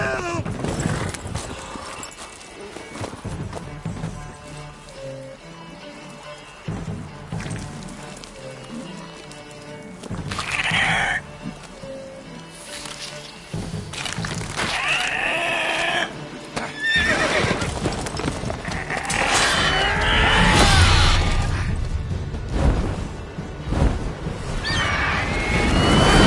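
Horse whinnies and hoofbeats from The Witcher 3, the horse neighing loudly several times over rumbling galloping clip-clop, with dramatic game music and scattered cries layered beneath, intensity building toward the end.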